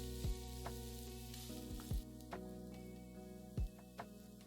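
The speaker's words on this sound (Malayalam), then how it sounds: "അതിലേക്ക് ഒരു മീഡിയം സവോള ചെറുതായിട്ട് അരിഞ്ഞത്, 2 പച്ചമുളക് ചെറുതായിട്ട് അരിഞ്ഞത്, ഇത് രണ്ടും കൂടിയിട്ട് വഴറ്റുക" Chopped medium onion and two green chillies sauté in a pan with a soft, steady sizzle, punctuated by a few low knocks and scrapes from stirring; no one speaks.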